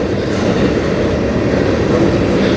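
A CN train rolls past on the Strathroy Subdivision, a loud, steady rumble of wheels and cars held close and constant throughout.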